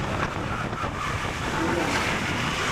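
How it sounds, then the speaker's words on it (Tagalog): Strong outdoor wind buffets the microphone, giving a loud, steady roar of rushing air with gusty swells throughout. "Hangin dito, ah."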